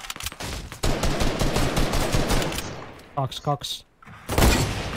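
Rapid bursts of gunfire in Fortnite, loud dense volleys of shots for several seconds followed by a few separate reports and one last boom, while players talk over the shooting.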